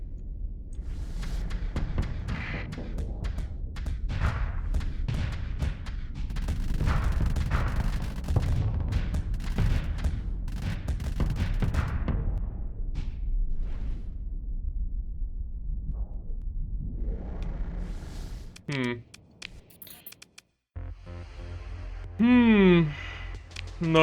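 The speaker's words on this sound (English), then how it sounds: "Okay, shoot another salvo, please." Starsector spaceship weapon salvo in a modded game, a long rumbling barrage of overlapping shots and booms, loud and continuous before fading into quieter electronic tones, with a voice talking over parts of it.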